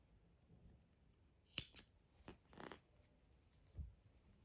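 Scissors snip crochet yarn near the mic in a few sharp, quiet cuts spread over several seconds, then a soft thump, with no talking.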